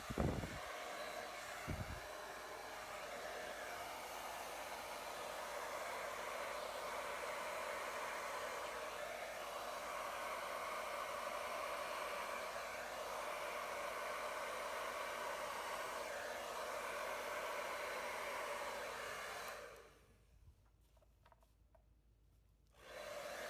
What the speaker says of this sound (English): I don't know if this hairdryer is too strong.